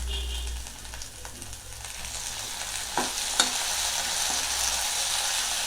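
Finely chopped tomatoes and onions sizzle steadily in a hot pan for peanut tomato chutney, with occasional scrapes and knocks of a spoon stirring them, close and continuous.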